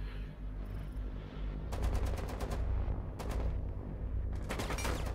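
Rapid automatic gunfire rattles in several sharp bursts in Rainbow Six Siege ranked play on the Grim Sky update, loud and close over a steady low in-game hum, with short pauses between volleys.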